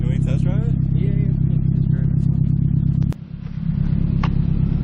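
A Nissan S14 240SX idles and revs loudly up close, a steady low engine drone with a sharp click and brief drop near the end as it settles, while people talk over it.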